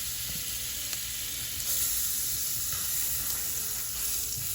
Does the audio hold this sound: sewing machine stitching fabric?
no